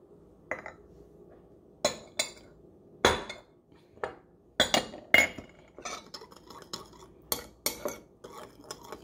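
Spoon clinks repeatedly against a bowl while brown sugar glaze with soy sauce is mixed, a run of sharp, close metallic taps in irregular bursts with no talk.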